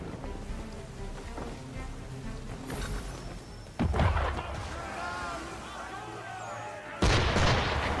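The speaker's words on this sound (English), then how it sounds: "Why is he shooting at us?" Cannon fire from a ship in a pirate-era video game booms in two loud blasts, the second near the end, over a steady rumbling wash of ambient noise and background speech.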